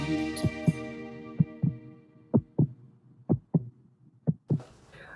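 Heartbeat thumping in a steady paired lub-dub rhythm, about five double beats, close and clear over a low hum, with no voices.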